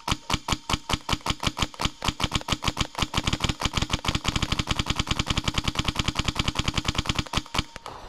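A modified airsoft gun fires in a long rapid burst, dozens of sharp, evenly spaced cracks close by that speed up toward the end, with no voices.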